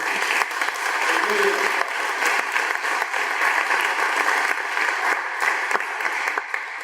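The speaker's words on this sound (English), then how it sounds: "We actually gave them a quick round of applause" A quick round of applause from an audience, steady crowded clapping with a few sharper individual claps standing out, continuing evenly for several seconds.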